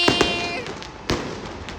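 Fireworks going off at a crowded music festival in Pasig: two quick pops near the start and a sharper bang about a second later, with tonal festival music and crowd noise running underneath.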